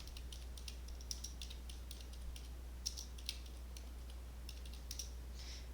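Light key taps on a calculator while numbers are entered, a scattered run of faint, quick clicks close by over a low steady hum, with no talking.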